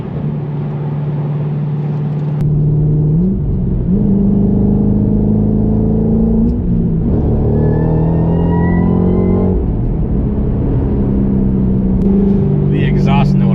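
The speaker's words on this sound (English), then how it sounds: "The exhaust note, I think, is exquisite in this thing, and all I had to do was do an MRT off-road H-pipe." A 2013 Shelby GT500 fitted with an MRT off-road H-pipe rumbles steadily near the microphone, its deep exhaust drone swelling and dipping with small throttle changes while someone talks over it.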